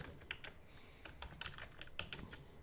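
Fast typing on a computer keyboard during a Laravel coding session, with quiet, uneven bursts of sharp key clicks that run steadily throughout and no voices.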